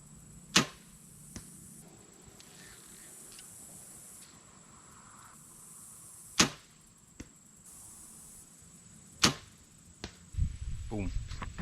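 Arrows shot from a bow strike a target 60 yards away, about four sharp, separate impacts spread across a quiet outdoor stretch, with faint handling noise and a rustle at the end.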